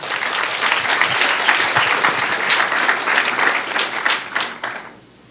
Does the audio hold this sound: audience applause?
yes